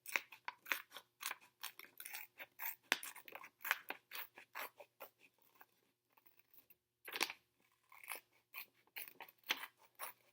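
Scissors snip through paper along a wavy line for a puzzle craft, giving crisp, close, rapid cuts in steady bursts, a short pause near the middle, then more cutting.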